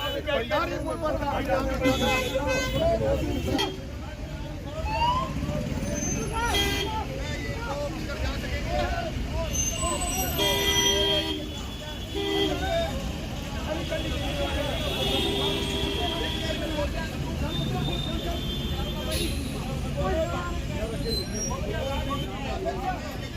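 Traffic crawls through a jam near Christian Chowk during an election campaign, with engines and horns mixed into a constant crowd babble and people talking close by throughout.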